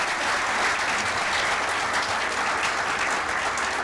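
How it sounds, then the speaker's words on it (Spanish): Loud, dense applause from an audience at a forum on educating digital citizens, a continuous roar of many hands clapping for a few seconds with no voices over it. "para quien pido un fuerte aplauso."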